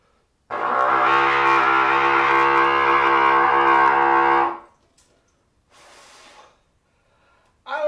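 Trumpet fitted with a 1SB mouthpiece sounds one loud, sustained, brassy note for about four seconds at close range, followed by quieter breathy noises.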